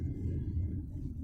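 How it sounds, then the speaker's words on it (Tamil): Road traffic near Singaperumal Kovil in Chennai: a steady low rumble of passing cars and engines, continuous and moderately loud, with no clear individual vehicle standing out. "நல்லா இப்போ டிராஃபிக்காக இருக்குது."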